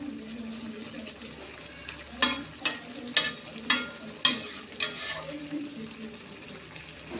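Spinach with prawns being stirred in a simmering pot, six or seven distinct scraping strokes in a row over a soft bubbling sizzle, fairly close, then easing back to a quiet simmer.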